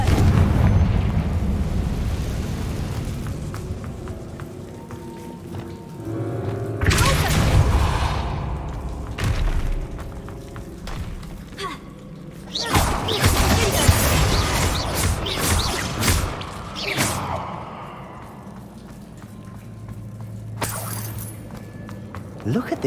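Loud booming blasts from the Confringo blasting spell in Hogwarts Legacy erupt in several bursts with crashing debris, heard amid game ambience, and a voice talks across parts of it.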